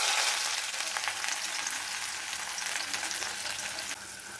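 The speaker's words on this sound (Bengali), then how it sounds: "কড়াইতে তেল দিয়ে দিচ্ছি, এখন পেঁয়াজ দিব।" Onion hits hot oil in a wok and fries with a dense, continuous sizzle, close and even throughout, with no talking.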